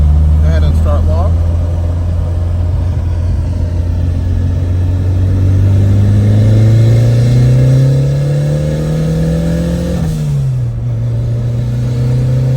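A car pulls away in second gear on a test drive, its engine droning and rising steadily in pitch as it accelerates, loud and close, then easing off near the end.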